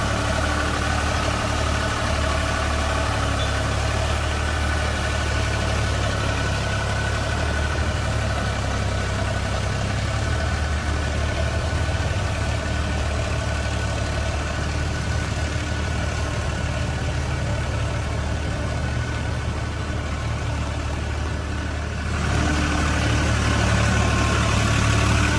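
A tractor engine runs at low RPM, giving a steady, close, heavy drone throughout with no voices and a slight swell in loudness near the end.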